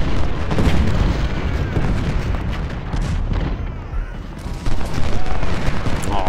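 Cannon and rifle fire fill a battle in the Civil War strategy game Ultimate General: Civil War, with loud, rolling booms and crackling volleys overlapping continuously throughout.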